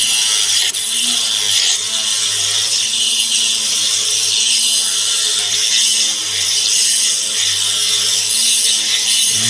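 A Dremel rotary tool cutting a rough opal picture stone, a loud continuous high-pitched grinding whine that holds steady throughout, close up with no talk.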